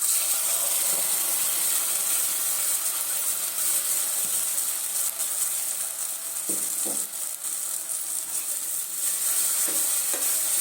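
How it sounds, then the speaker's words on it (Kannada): Ground masala with salt frying in a pan for an avarekalu curry, a steady loud sizzle and hiss throughout with a few scraping stirs of a spoon partway through. "ಮಸಾಲನ ಒಂದೆರಡು ನಿಮಿಷ ಚೆನ್ನಾಗಿ ಹುರ್ಕೊಳ್ಳೋಣ ಹಸಿ ವಾಸನೆ ಎಲ್ಲ ಹೋಗೋ ತನಕ"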